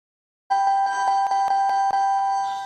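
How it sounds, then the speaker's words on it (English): A bell is rung by hand and gives a bright, sustained metallic ring with a quick series of struck pulses. It is loud and close, starts abruptly after a short silence and fades slightly at the end. "I even got the bell."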